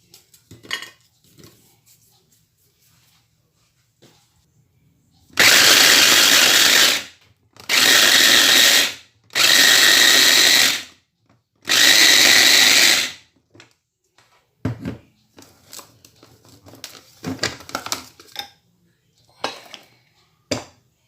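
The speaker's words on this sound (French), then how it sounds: "on les casse, on va les travailler dans un petit robot" A small food processor grinds broken biscuits in four loud, pulsed bursts of whirring, each lasting one to two seconds with short gaps between them. Faint, scattered clatter comes before and after.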